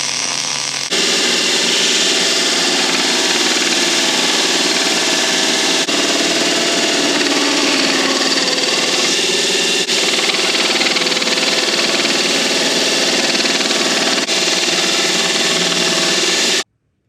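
An angle grinder rounds off the corner of a welded metal piece in a shop, giving a loud, steady, harsh grinding roar that runs unbroken for about sixteen seconds before cutting off.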